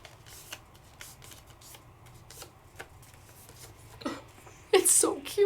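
Card paper folded by hand on a crafting table, with soft crinkling and a brief louder rustle and crease near the end, over faint background hum.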